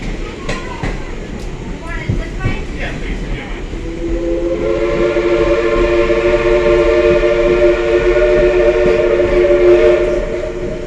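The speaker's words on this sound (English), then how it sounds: "y'all gonna hear the whistle when we're about to come into the station." A loud, sustained steam whistle from steam locomotive Southern 4501 sounds over the rumbling train, rising and holding steady for several seconds after some clanking.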